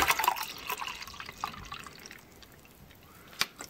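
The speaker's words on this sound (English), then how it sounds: "I just happen to have a whole bottle of water here. So let's try it out." Water poured from a bottle into an MRE chicken breast fillet meal pouch, a wet trickling splash loudest at the start, then fading to faint drips with one brief louder spill near the end.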